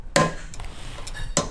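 Light taps on a fragile brass part in a workshop, heard as two crisp, close metallic knocks about a second apart with faint handling noise between them.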